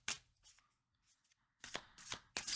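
Tarot cards being shuffled, a few short faint riffling bursts separated by quiet gaps, close and soft.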